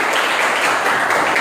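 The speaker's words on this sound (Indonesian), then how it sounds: "tepuk tangan dulu" A morning assembly audience claps on request, a brief dense burst of many hands applauding together, continuous and loud throughout.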